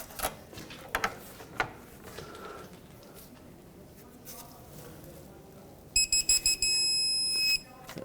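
A digital torque wrench, used on a front control arm bushing job on a 2007-2009 Saturn Aura, gives a few quick high beeps and then one steady beep lasting over a second, heard over quiet garage clatter and faint background noise.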